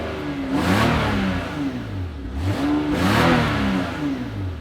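A naturally aspirated, non-turbo 1995 Toyota Supra with about 200,000 miles is revved twice. The engine note climbs and falls in two loud, close sweeps with no other sound.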